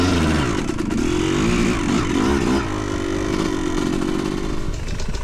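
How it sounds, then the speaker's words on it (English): A dirt bike engine, either a Yamaha YZ250 or a Fantic XE300, runs loud and close in Colorado, a rough buzzing two-stroke drone with steady revving and no speech over it. "So this is actually my first real ride on this bike since we built it."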